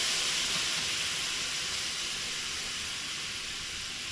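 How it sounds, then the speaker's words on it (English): A cup of beef stock poured into a simmering pot, a steady bright hiss and sizzle as the liquid hits the hot mix, close and continuous, slowly easing off, with no talking. "I'm gonna add 8 ounces, which is a cup of beef stock, and right into the mix it goes."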